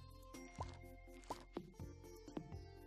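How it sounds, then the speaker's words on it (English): Corn is harvested in the farming video game Stardew Valley, heard as a few soft, close plopping pop effects spaced irregularly over a quiet background with no talk. "We can also harvest corn."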